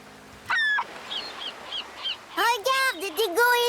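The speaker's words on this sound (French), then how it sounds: "Regarde, des goélands." Seagulls call at a beach, one short cry early and a run of loud, close, harsh wailing calls near the end, with fainter squawks between.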